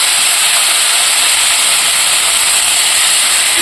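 Eggplant pieces dropped into hot oil with black cumin seeds in a Bengali home kitchen give off a loud, steady, unbroken sizzle that holds evenly from start to finish with no speech.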